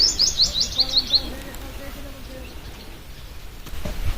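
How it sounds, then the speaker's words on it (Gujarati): Sparrows chirp in a quick run of bright, high tweets that fades after about a second, followed by quieter background murmur and faint voices. "હવે ઉપર તો નકર ચકલા ઉડે."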